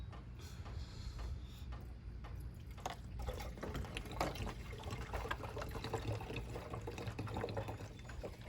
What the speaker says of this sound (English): Now I'm just going to fill this up with some tap water.